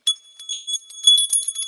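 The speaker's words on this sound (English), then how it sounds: "I'm going to ring my bell." A small bell rung at the start of a tarot reading gives several bright, clear chimes close up, their high tones ringing on and overlapping across the short clip.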